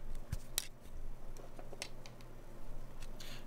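Cutters snip a plastic part off a sprue while a Millennium Falcon model kit is built, giving a few sharp, close clicks with quiet pauses between and no voices.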